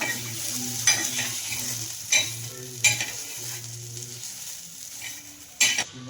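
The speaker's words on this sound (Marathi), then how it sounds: "आता टोमॅटो परतून घेणार आहे आणि इथे मी टोमॅटो परतून घेणार आहे" Tomatoes for misal sizzle steadily in a hot pan while a spoon stirs and scrapes, with a few sharp clinks against the metal.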